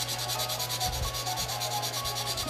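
A cheap nail file rubs back and forth in fast, steady rhythmic strokes, close and continuous, while sanding a handmade Christmas craft piece.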